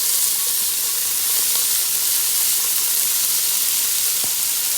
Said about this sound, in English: We're going to go ahead and add our bacon in.